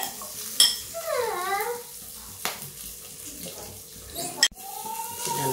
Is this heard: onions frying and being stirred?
yes